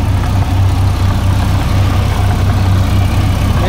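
A Massey Ferguson 241 tractor engine runs at a steady idle, its low diesel throb loud and close with a regular pulsing beat and no speech.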